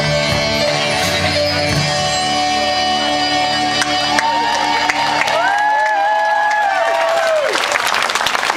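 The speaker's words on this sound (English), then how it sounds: "Another big hand for the crowd." A crowd at an outdoor evening vigil claps and cheers steadily, with whoops and children's shouts rising over music that plays throughout.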